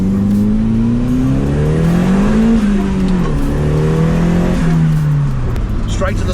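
A Datsun 1200 coupe roll-racing car accelerates hard at a Sydney event. Its engine drones loud and close as the pitch climbs, dips and climbs again through the gears, with voices over the steady roar.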